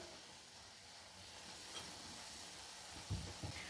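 Khoya dropped into carrot halwa sizzling in a pan: a steady soft frying hiss runs throughout, with a couple of low thuds and a brief louder sizzle burst near the end.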